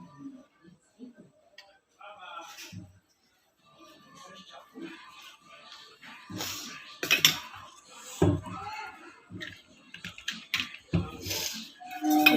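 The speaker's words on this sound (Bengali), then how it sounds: "সবকে একটু ভালো করে মিশিয়ে নেব।" A spoon clinks and scrapes in a pan while pasta sauce with vinegar and tomato sauce is stirred, giving irregular metallic taps that grow busier and louder toward the end, with a voice talking between them.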